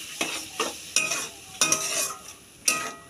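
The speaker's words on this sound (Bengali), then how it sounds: "অ্যাড করছি ফাটানো দই। মিডিয়াম টু লোতে এটাকে আমরা কষিয়ে নেব।" Spice mixture with curd sautéed on medium-low heat for a hilsa biryani, heard close as rhythmic spoon strokes scraping the pan, about five distinct pushes over a low sizzle.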